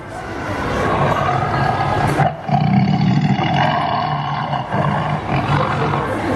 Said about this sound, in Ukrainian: Знаємо, як розмовляють тигри? Давайте послухаємо.